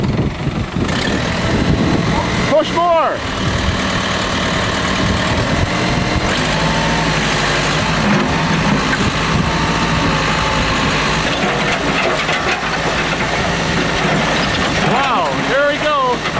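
A loud tractor engine drones steadily throughout, revving and straining as the tractor lifts up while crushing household objects, under shouting and cheering voices close by.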